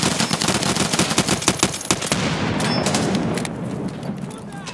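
Rapid automatic gunfire in a video game firefight, a dense, loud string of close shots for about two seconds that gives way to a rumbling wash of distant shooting and noise, with players talking over it.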